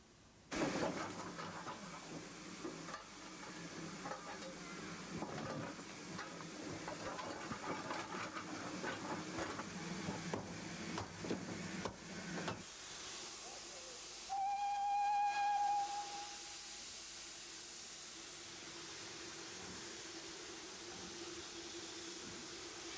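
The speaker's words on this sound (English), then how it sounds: "Once prepared, Gothenburg runs into the station with its rake of coaches" Preserved steam locomotive Gothenburg pulls its rake of coaches into a station with a steady hiss and rumble. A faint whistle-like tone is heard after the train noise drops away, all fairly quiet.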